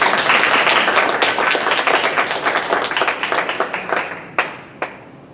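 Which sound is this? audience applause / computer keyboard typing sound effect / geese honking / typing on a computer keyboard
audience applause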